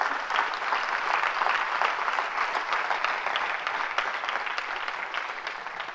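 A church congregation breaks into loud, sustained applause, many hands clapping together in a dense, steady roar that tapers slightly toward the end.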